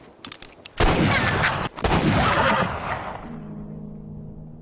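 Gunfire from the 2010 film True Grit: a few sharp shots up front, then two big booming blasts that roll into a long reverberant tail before a low hum takes over.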